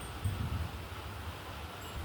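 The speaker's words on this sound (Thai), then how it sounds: "ลมเริ่มแรงแล้วลมเริ่มมาแล้ว" Steady wind gusts rush and roar across a seaside spot under a darkening sky before rain, a constant broadband whoosh with no voices.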